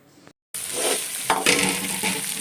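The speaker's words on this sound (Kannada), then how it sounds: "ಅದನ್ನು ಹಾಕಿ ಇವಾಗ ಚೆನ್ನಾಗಿ ಮಿಕ್ಸ್ ಮಾಡಬೇಕು" Crumbled leftover idli stirred into hot gojju in a pan, a steady scraping stir with a soft sizzle that begins after a brief silence and carries on alone.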